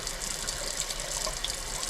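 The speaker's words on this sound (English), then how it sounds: "until that water runs a lot clearer than before" Tap water gushes steadily into a pot or bowl of basmati rice during rinsing, a close, continuous splashing rush with no voices.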